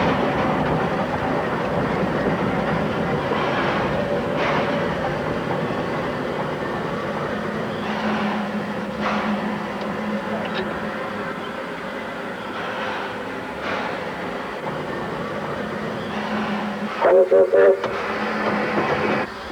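A steam locomotive train rumbles steadily along the track with a continuous low roar, a few sharper clanks and a brief metallic squeal near the end.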